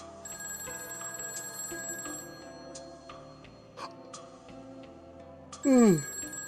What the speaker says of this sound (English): I heard the phone ring again.